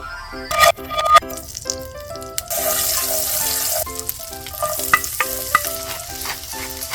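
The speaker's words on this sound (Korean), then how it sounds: "약불에서 기름을 뽑아줄게요." Oil rendering in a frying pan over low heat crackles and sizzles up close, with a louder burst of frying in the middle, under a steady pattern of repeated chiming notes.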